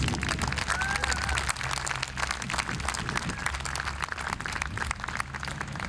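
Applause for a city team of department heads and employees at a mayor's welcome-back event, steady crowd clapping with a low background hum and faint voices underneath.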